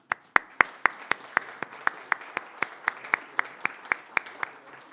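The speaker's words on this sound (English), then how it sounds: "Round of applause." Clapping at a city council meeting, a few nearby pairs of hands striking in a slow, even rhythm, roughly four claps per second, crisp and distinct against a quiet room.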